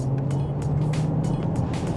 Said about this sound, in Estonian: see mootori heli natukene kõrgematel pööretel siin salongi kostab